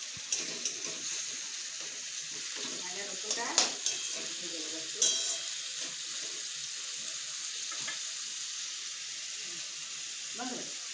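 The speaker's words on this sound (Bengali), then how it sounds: "রসুন বাটাটা ভালো করে ভেজে নেবো।" Garlic paste frying with onions in a pan for a Bengali goat liver dish, a steady bright hiss throughout with occasional scraping stirs and clicks of the utensil, close.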